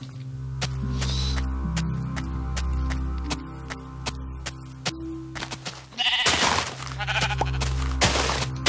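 Sheep in the Minecraft video game bleat several times over a steady background hum, with clicky game sounds and a burst of brighter noise near the end.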